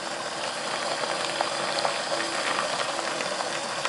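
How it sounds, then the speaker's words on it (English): Water boils hard around a Russian military ration pouch, a steady close bubbling and sputtering with fine crackles throughout and no talk. "You can tell it's boiling now."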